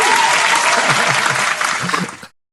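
A crowd cheers and applauds in a dense, loud burst of clapping and shouting that holds steady, then quickly fades out.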